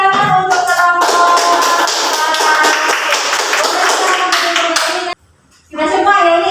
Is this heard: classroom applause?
yes